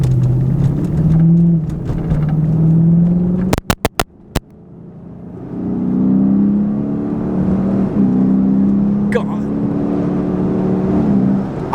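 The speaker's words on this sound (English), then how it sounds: "I love the induction noise this thing gets when it hits its little VVTi." A Lexus IS-F engine growls and revs steadily while driving, with a rising induction roar as the VVT-i engages, a few sharp clicks midway, then the engine pulling again.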